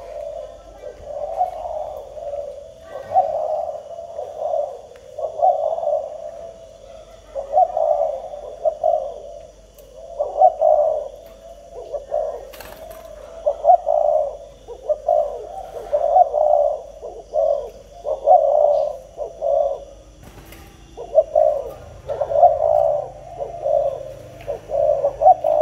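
A pair of doves coo steadily and close, repeating soft, low rolling phrases in regular rhythm for nearly half a minute, with only faint background noise.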